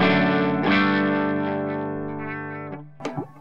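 Electric guitar driven through an overdrive pedal set to its hot mode with every knob at noon, ringing out as a saturated, high-gain sustained chord that slowly fades, followed by a few short picked notes at the end, with no voices.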